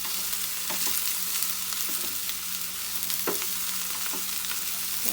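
Okra (bhindi) being stir-fried for a coconut thoran sizzles steadily in a pan, with a soft constant hiss and occasional scraping clicks of stirring, no voices over it.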